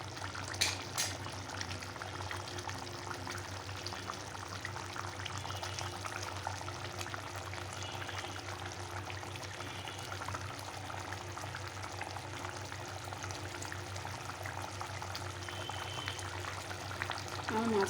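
A curry of singhi fish (stinging catfish) and potatoes simmers in a pan, giving a continuous low bubbling hiss with faint crackles that holds steady and close throughout.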